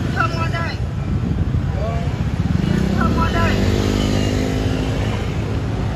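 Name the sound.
crowd of motorbikes riding past on a Vietnamese street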